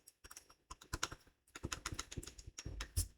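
Computer keys clatter in quick irregular bursts, close and fairly quiet, with short pauses between runs of keystrokes.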